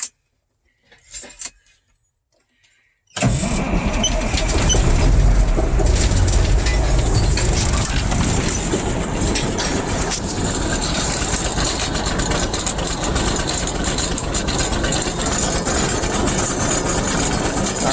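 An old car with a nearly rusted-out muffler clicks and cranks briefly, then its engine catches and settles into a loud, rough, steady idle that runs close to the microphone without any talk.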